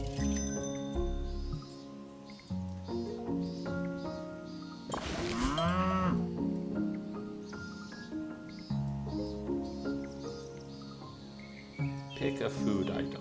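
Cartoonish cow moos from an indie farming game on itch.io, a few lowing calls over a looping game soundtrack with chimes and cricket-like chirps, fairly loud in the mix.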